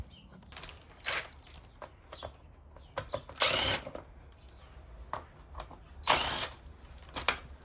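Short, loud whirring bursts of a power driver spinning out bolts on the plastic engine guard of a Suzuki V-Strom 650 motorcycle, with small clicks and handling noises between them, nearby and without speech.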